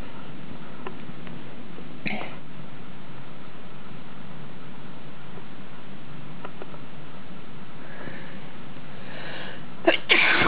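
A messy human sneeze bursts out near the end, close and sharp, after a long quiet stretch with faint sniffs.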